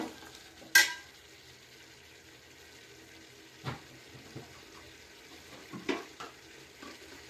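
Red chili powder frying in a pan for chicken gravy for ghee rice: a faint, steady low sizzle broken by a few sharp spoon-against-pan clinks and scraping stirs, one louder knock near the start, no talking.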